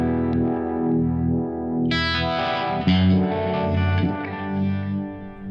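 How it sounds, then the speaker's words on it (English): Electric guitar played through a Univibe effect pedal, sustained chords and notes with a swirling, throbbing phase-chorus wobble and some distortion, loud and close with no talking. "Now let's check out one of my favorite effects, which is of course the Univibe."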